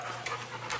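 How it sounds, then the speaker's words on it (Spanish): A cloned Labrador dog pants close by, quick rhythmic breaths with a few sharper exhalations, no talking. "mientras Nina Otto nos presenta a su perro clónico Lancey."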